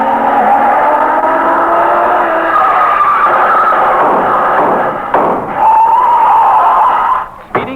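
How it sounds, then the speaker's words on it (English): A car speeds past and skids as a radio drama sound effect, a loud engine whine followed by screeching tires and a thud near the end, with no talk over it. "Speeding toward the same destination is another car."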